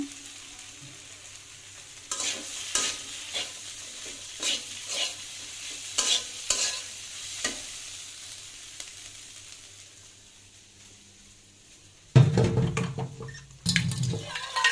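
Potatoes and soybean chunks stirred into spiced masala in a pan, with a soft sizzle under a series of scraping spoon strokes that come in bursts, then a quiet stretch and two louder clattering stirs near the end.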